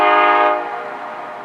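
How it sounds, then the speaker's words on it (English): A loud, sustained train horn blares close by, its rich harmonic chord holding steady before easing slightly and lingering. "we were jump scared by P11's horn"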